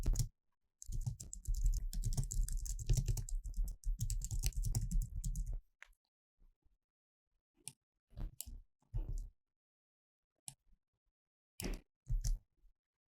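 A computer keyboard and mouse during a Microsoft 365 spreadsheet task, with Shift-click cell selection: a dense four-second burst of close typing, then scattered single clicks and short key taps separated by silence.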